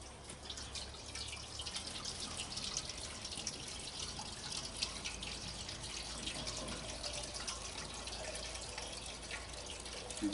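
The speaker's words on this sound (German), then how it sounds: "So, und jetzt kippe ich das warme Wasser rein." Warm water poured into a charcoal water smoker through the lower door while pulled pork is prepared, giving a steady, continuous trickling and splashing that runs at an even level throughout without talk.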